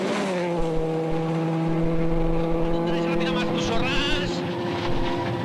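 A Ford Focus rally car at the RAC Rally with its front right tyre burst, engine droning and revving steadily up close, harmonics shifting slightly, while a commentator talks in French over it.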